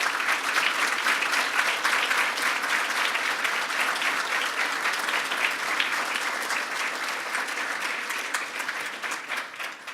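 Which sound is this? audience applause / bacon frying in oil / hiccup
audience applause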